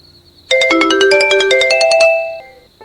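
A melodic phone ringtone starts abruptly and plays a rapid sequence of bright, chiming electronic tones for about two seconds, loud and close, then cuts off into near silence.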